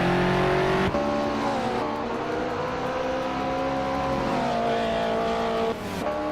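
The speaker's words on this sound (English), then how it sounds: "the race has just kicked off at Long Beach" Race cars roaring off the start at Long Beach, led by a 1963 Porsche 904, with engines revving loudly and shifting pitch, steady close engine drone and gear changes.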